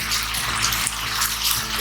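Chicken curry for butter chicken, with yogurt added, boiling in a covered pot: a steady, dense bubbling hiss that holds even and unbroken throughout, with no voices.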